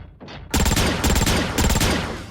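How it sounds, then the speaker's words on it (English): Rapid gunfire from an animated cartoon about Sonic and the Autobots, loud and continuous bursts of repeated shots after a brief quieter lead-in. "Just keep pulling the trigger, Cliff."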